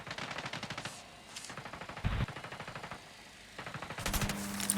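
Bursts of rapid automatic gunfire crackle in the video game Ghost Recon Wildlands, with several separate volleys and brief pauses between them.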